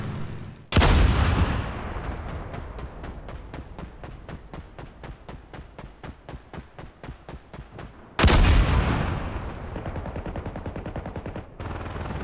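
Gunfire in the flight game IL-2 Korea rattles in long rapid bursts, with two loud booming blasts opening each volley, close and intense, with no talking.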